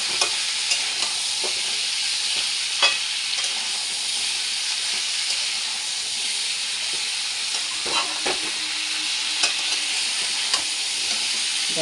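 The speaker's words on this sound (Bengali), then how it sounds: "দেখো এটা নাড়াচাড়া করছি" Mixed vegetables seasoned with salt and turmeric frying in a pan, a steady loud sizzle with occasional scrapes and clacks of a spoon stirring throughout, no voices.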